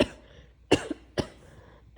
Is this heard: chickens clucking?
no